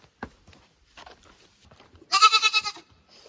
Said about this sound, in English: He's calling them and they're not replying.